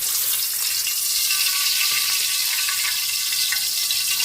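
Pompano fish fries in hot oil with a loud, continuous close-up sizzle and crackle, a dense bright hiss with small pops scattered throughout and no voices.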